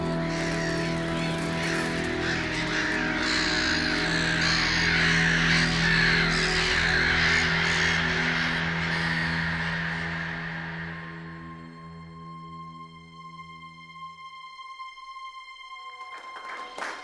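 A dense chorus of crows cawing on a film set, loud and continuous for about eleven seconds before fading, leaving a steady tonal hum.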